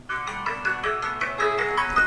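Ice Latte, a system ringtone on a Xiaomi Mi Note 10 Lite phone, plays a bright, repeating melodic chime pattern in regular pulses, loud and close, with no talk.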